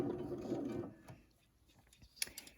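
A sewing machine with a 1/4 inch presser foot stitches a couple of seam lines through quilt fabric pieces, a steady close whirring burst that stops after about a second, followed by quieter handling clicks.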